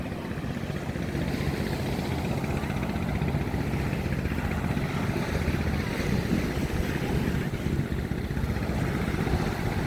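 A boat engine drones steadily on a ride out to Untung Jawa island in the Thousand Islands, a continuous loud rumble mixed with wind buffeting and rushing water, with no pauses throughout.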